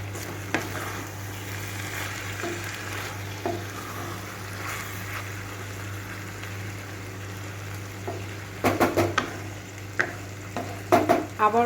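Masala-coated ivy gourd is stirred in a pan on a medium-low flame, with a soft simmering hiss and a low steady hum under scattered spoon scrapes and clinks that grow busier toward the end; no voices.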